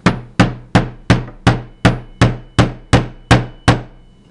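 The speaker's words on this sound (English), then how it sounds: "hold it tight, stand up, and hammer it in to start the punch" Steel hammer strikes a punch into the bolt catch of an AR-15 rifle, eleven sharp, evenly spaced metallic blows about every 0.37 seconds, loud and close with brief ringing decay, no talking.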